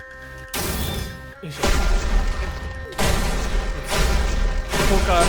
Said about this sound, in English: Look at that explosion we make